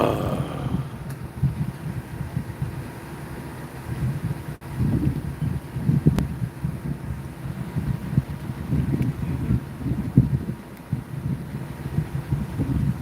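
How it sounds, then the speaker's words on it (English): Wind buffets the microphone in low, rumbling gusts that rise and fall continuously, loud and close, with no voices, outdoors in Galveston, Texas. "Yeah, it is windy."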